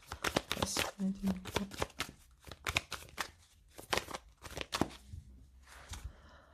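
A deck of tarot cards is shuffled and cut, giving a run of close, crisp riffling and slapping bursts with brief pauses, loud and continuous across the stretch.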